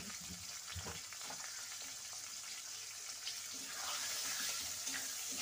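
Chopped onion and three bay leaves fry in a pan for chicken and potato kosha, giving a steady, close, dense sizzle that runs without pause and swells slightly louder toward the end.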